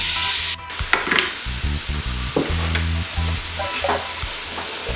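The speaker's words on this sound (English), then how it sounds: "We're going in with the bacon." Bacon sizzles in a pan for onion-braised beef shanks, with a close frying hiss, a sharp clatter at the start and repeated scraping stirs against the pan.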